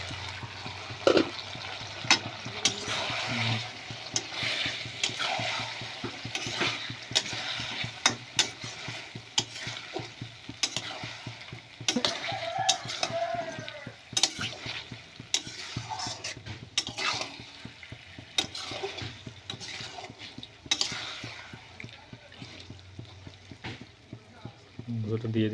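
Country chicken meat sizzles and fries in spice masala in a pan, with a spoon repeatedly scraping and stirring through it at an uneven rhythm. Occasional louder clatters break in, and a voice talks intermittently over the cooking.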